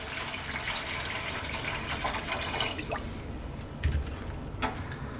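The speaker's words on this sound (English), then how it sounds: "So I'm going to add some water in here." Water is poured into a pot of lamb stew, a steady splashing pour close by that tapers into a few drips.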